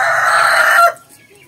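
A rooster crows loudly and close by on a rural farm near a pullet pen, with hen clucking mixed in, before the crow cuts off into near quiet.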